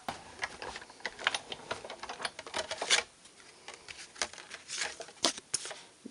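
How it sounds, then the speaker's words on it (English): A piece of card paper being cranked through an embossing machine, giving a quick run of irregular, close clicks and ratcheting taps with brief pauses between bursts. "So I'm going to emboss this like I did with the card itself."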